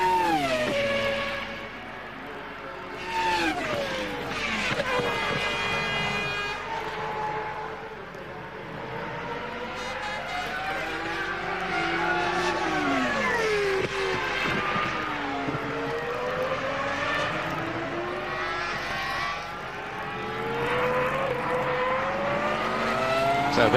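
Formula 1 cars lapping during practice at the 2002 British Grand Prix, their high-pitched engines screaming and sweeping up and down in pitch as they pass, layered and continuous with no quiet gaps.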